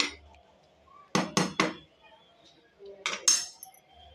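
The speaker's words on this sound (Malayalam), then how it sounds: "അടി പിടിക്കാതിരിക്കാൻ വേണ്ടി ഇളക്കി കൊടുക്കാം. അല്ലേ, നല്ല തിളച്ച് വന്നു." A spoon stirs boiling soya chunks curry in a pot, giving three quick, distinct metallic scrapes and clanks in a row and then a second short burst, with quiet gaps around them.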